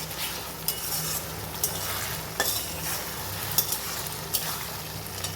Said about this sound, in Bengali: এবার আমি এইটা দিয়ে দেবো টমেটো সসটা।